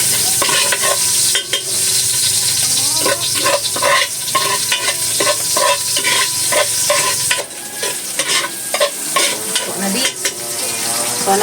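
Garlic sautéing in a frying pan, with a steady loud sizzle and repeated scraping strokes of a utensil stirring it, close up and uninterrupted with no talk.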